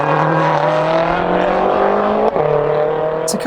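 Lexus LFA V10 engine held at high revs, a loud steady sustained drone with a rising pitch and a brief dip near the end, without talk.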